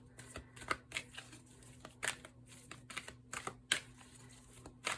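Close, soft shuffling of oracle cards in a steady series of quick flicks and taps over a faint low hum.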